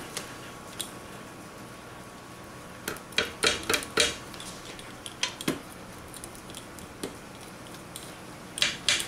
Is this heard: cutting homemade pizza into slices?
yes